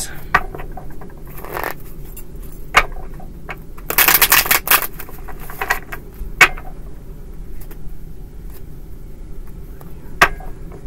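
A deck of tarot-style cards is shuffled by hand nearby, with soft riffles, slides and occasional sharper snaps, including a dense flurry midway, amid quiet room noise.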